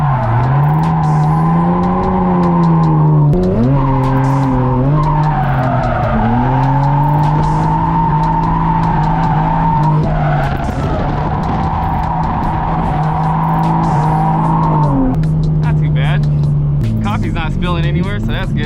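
A car drifts on a public street during a warm-up run, its engine revving and surging through gear changes while the tires skid and squeal loudly and steadily, with a voice talking over it.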